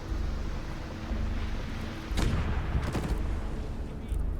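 A German 7.5 cm leIG infantry gun fires in the Eastern Front battle game Call to Arms: Gates of Hell. Two deep booming blasts come about a second apart, rolling over a low, constant battlefield rumble.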